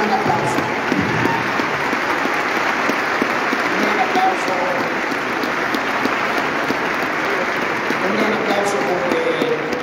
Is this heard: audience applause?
yes